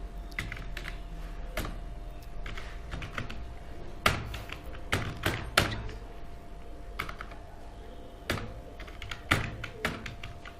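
Close, irregular clicking of keys as someone types text into Microsoft Word on a computer keyboard, with occasional heavier thunks from larger keys and no talking.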